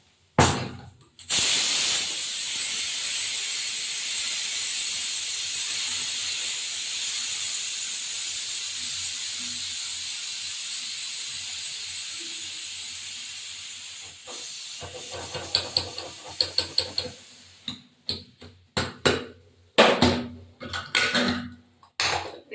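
Pressure cooker of mutton on the stove sends out a long, steady, fairly loud steam hiss, which breaks into sputtering, irregular bursts as the release dies down.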